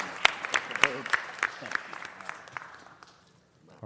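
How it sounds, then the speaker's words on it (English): A round of applause at a city council meeting. Scattered, distinct claps from a modest group start strong and taper off to quiet within a few seconds, with some voices mixed in. "Let's give Gary one more round of applause."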